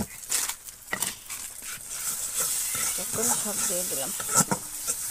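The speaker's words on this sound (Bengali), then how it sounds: "এখন কিছুক্ষণ কষাইতে থাকবো।" Ground turmeric and chilli with ginger-garlic-cumin paste being stir-fried for a tomato fish curry, sizzling and scraping close by while a voice speaks briefly over the cooking.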